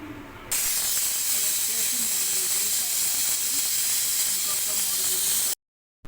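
A pressure cooker cooking goat head curry with green chillies and garam masala lets out one long, loud, steady hissing whistle of steam that cuts off abruptly.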